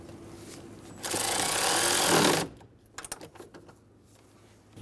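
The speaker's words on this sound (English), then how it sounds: "Snug the fan shroud bolts down." Fan shroud bolts being snugged down with a power tool on a 2005-2015 Toyota Tacoma 2.7L four-cylinder: one loud, steady buzzing burst lasting just over a second, then scattered light clanks and taps of work on the shroud.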